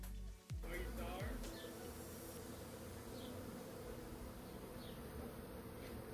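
A honey bee swarm from a split hive buzzes as a dense, steady drone that fills the space close by, with individual bees zipping past the listener.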